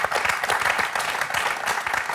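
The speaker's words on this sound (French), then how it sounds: "Ça s'applaudit, ça." A TV quiz show studio audience applauds a contestant, with close, continuous clapping at an even, energetic level throughout.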